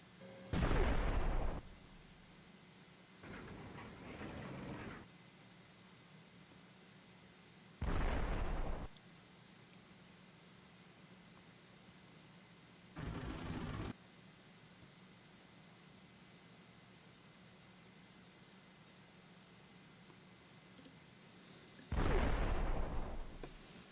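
Artillery fires during a tank battle at Longstop Hill in North Africa, booming in five separate heavy blasts spread several seconds apart, moderately loud and slightly distant, over a low steady rumble with no talking.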